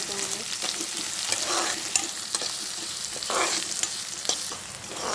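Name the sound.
onions frying in a pan for ridge gourd curry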